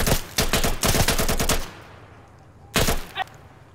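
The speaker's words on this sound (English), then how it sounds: "we're taking some serious suppressive fire" Close, loud automatic gunfire in the video game Insurgency: a rapid rattling burst lasting over a second, then a quiet gap and another short burst.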